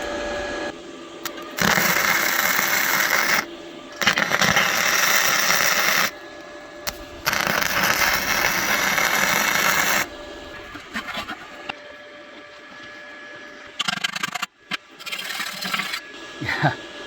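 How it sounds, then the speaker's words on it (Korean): A MIG M100 gasless inverter welder welds steel in bursts of loud, harsh crackling buzz separated by pauses, up close, with someone talking in between the welds. "MIG M100 인버터 논가스 전용 용접기입니다. 자 요거 요거를 먼저 용접하고"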